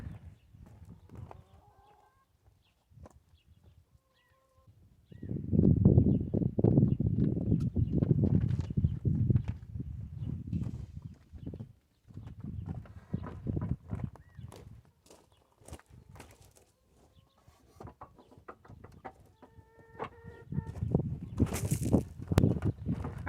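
Hooves of a family milk cow, Maybelle, thud and clop irregularly on a hard floor as she walks into a stanchion, with shuffling and a few faint bird calls in a quiet barn.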